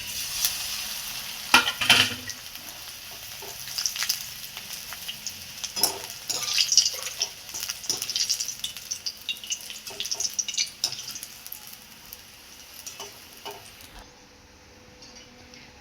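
Homemade rice papads fry in hot oil with a continuous crackling sizzle and bursts of spattering, joined by occasional scrapes and clinks of a utensil, before the sound cuts off near the end.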